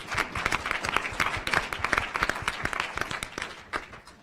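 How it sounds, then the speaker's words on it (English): Brief, moderately loud applause from an audience at a public forum, a burst of crisp overlapping claps that tapers slightly over a few seconds. "Let's give them all a round of applause."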